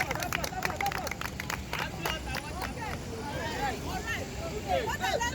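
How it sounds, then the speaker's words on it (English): An audience claps and cheers at a motivational talk beside a water fountain, with steady applause, scattered whistles and crowd hubbub filling the whole stretch. "Yes, so applause for her."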